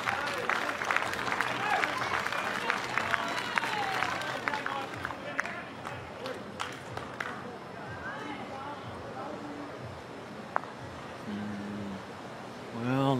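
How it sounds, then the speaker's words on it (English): Small audience gives a brief burst of applause after a positional shot in a snooker or pool match, scattered clapping moderately close, with murmuring and commentary-style talk running underneath throughout. "Yep, get a little clap there."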